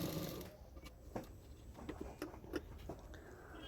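A sewing machine stitching a fold of blouse fabric gives a soft, quick ticking patter with a few sharper clicks, quiet and close, with no talking.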